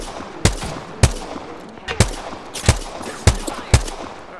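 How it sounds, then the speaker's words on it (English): Gunfire in the Apex Legends video game: six loud, sharp shots spaced roughly half a second to a second apart, each with a brief crack and short tail over a steady low game background. "Look, shots fired."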